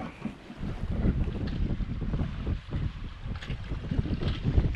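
A sailboat cruising under genoa alone with the engine stopped, off the Balearic coast between Menorca and Mallorca; steady wind rush and water noise against the hull fill the whole stretch, with no voices.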